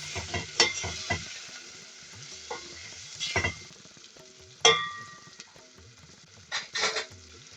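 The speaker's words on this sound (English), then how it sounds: "We want to give everything a good mix." Spices, turmeric and chili powder, being stirred into a sheephead curry in a pot, with a steady low sizzle broken by several sharp scrapes and clinks of the spoon against the pan, no talking.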